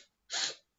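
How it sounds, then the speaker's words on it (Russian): One sharp, noisy inhalation through the nose, taken as part of a breathing exercise, brief and close with a hissing rush that fades quickly. "Резкий шумный вдох."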